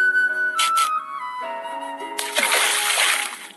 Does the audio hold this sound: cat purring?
no